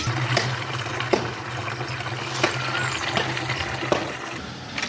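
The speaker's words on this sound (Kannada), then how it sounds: "ಈ ಥರ ಸ್ವಲ್ಪ ನೀರು ಹಾಕ್ಕೊಂಡು ಫ್ರೆಶ್ ನೀರಲ್ಲಿ ಇನ್ನೊಂದ್ಸಲಿ ಚೆನ್ನಾಗಿ ಈ ಥರ ತೊಳ್ಕೊಳ್ಳಿ" Fresh water pours and splashes while a container is rinsed on a sheep farm, with a steady liquid wash broken by several sharp clinks and knocks, close and fairly loud, no voices.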